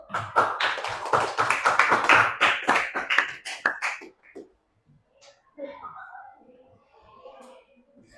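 Brisk applause from a classroom group of hands clapping, dense and steady for about four seconds, then fading out into scattered quieter sounds.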